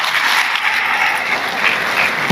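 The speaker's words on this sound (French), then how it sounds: "veuillez l'applaudir une fois de plus" Audience applause at a national student event in Mali, steady dense clapping that fills the hall at even loudness throughout.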